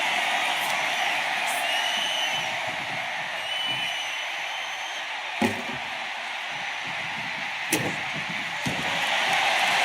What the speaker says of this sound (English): This crowd is on pins and needles. The WWE Universe is ready to erupt.